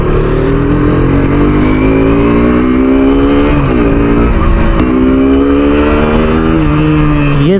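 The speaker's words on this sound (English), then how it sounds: "I'm trying to take the off-road path and see how the bike is doing" A 2021 KTM RC 125 motorcycle ridden along a rough off-road path, its engine droning loud and close throughout with rising and falling revs over constant road and wind noise.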